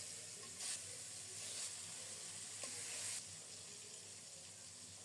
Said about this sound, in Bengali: লবণ, হলুদ, সরিষার তেল মাখানো রুই মাছের পিসগুলো ভেজে নেব